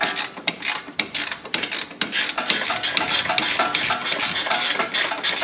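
A hand ratchet clicks in rapid, uneven bursts while tightening a castellated nut on a Honda Civic. The ratcheting is close and continuous with a raspy mechanical texture.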